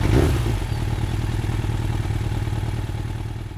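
A BMW F900XR motorcycle engine runs steadily and close by, with a throbbing, even beat. It gets slightly louder at the start, then holds level and eases off near the end, with no talking.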